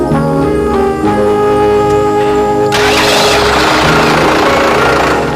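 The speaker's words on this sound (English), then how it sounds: "check the starter pinion gear cranking and engagement by listening to the gear sound" A Toyota forklift's starter cranks with a steady mechanical whir, then the engine catches and runs with a loud, broad roar, close and continuous, with no talking.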